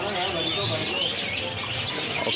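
Several canaries sing at once at a bird market, a dense stream of bright trills and chirps close by, overlapping without pause.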